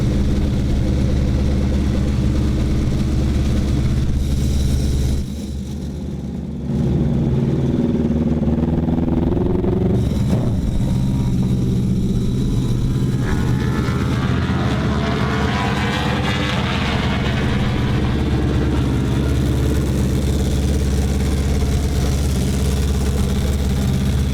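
Aprilia X-GP racing motorcycle engine on a race track, a loud steady mechanical drone that dips briefly and then swells again as the revs climb, heard alone without talk.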